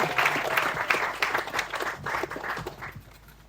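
An audience claps loudly at an evening festival concert, dense sustained applause that stays full for most of the stretch and then gradually thins toward the end, with no speech over it.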